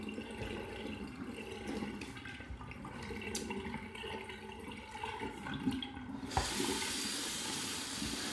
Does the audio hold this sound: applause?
no